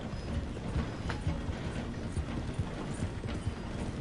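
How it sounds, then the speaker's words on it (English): In the Red Dead Redemption 2 video game, a galloping horse's rhythmic hoofbeats run close alongside the steady rumble and clatter of a train slowing down to pass through a station. "The train is slowing down to go through the station."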